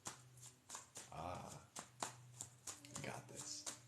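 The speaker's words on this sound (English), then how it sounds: "Cut the deck, clear it, let it rest while we shuffle the goddess." A tarot deck is shuffled close by in quick, soft, papery bursts of riffling and tapping, with a voice talking quietly through much of it.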